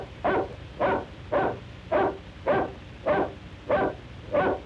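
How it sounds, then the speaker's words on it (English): A dog barks in the background of the 1965 film Monster a Go-Go, in a steady, evenly spaced rhythm, eight single barks at moderate distance with nothing else between them. "and it just doesn't stop barking"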